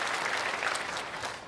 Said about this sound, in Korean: 우리 찬양대교도 크게 박수로 축복하겠습니다